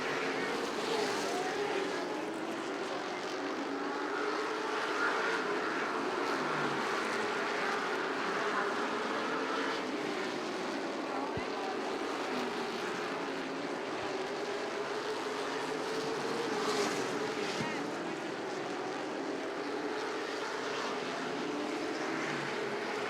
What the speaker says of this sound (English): so now it's the 22 automobile of Curtis Markham and Chris Dodson racing it out